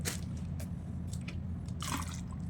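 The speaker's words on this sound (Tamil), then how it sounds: "கொஞ்சம் தண்ணி ஊற்றிக்குங்க" Water is poured into a mixer grinder jar holding sweet potato pieces, heard close up as a few short, splashy, gurgling bursts over a low background hum.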